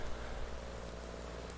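Steady rain falls in Farming Simulator 19, a soft, even hiss of drops hitting surfaces that holds at a constant level throughout, with no talking.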